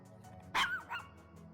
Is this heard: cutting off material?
no